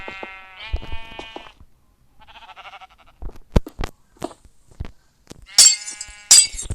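Minecraft sheep bleat in short wavering calls, mixed with sharp clinking and crunching game effects, all clear and close with no talking.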